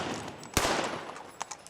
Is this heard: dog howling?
no